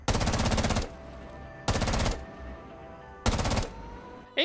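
Three loud bursts of rapid automatic gunfire in the video game Rainbow Six Siege, each about half a second long, separated by short pauses with a low background hum.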